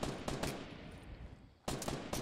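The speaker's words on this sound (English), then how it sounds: "Oh God, they're shooting at me." Gunfire in the Fortnite video game crackles in bursts: a rapid volley at the start, a short lull, then a second burst of shots, loud and close with no talk.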